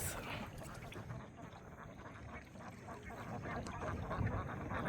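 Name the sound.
domestic ducks quacking in a village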